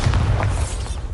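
A Bombarda spell explosion in Hogwarts Legacy lands as a loud, deep, booming blast with heavy low rumble that fills the whole brief moment and fades slightly at the end.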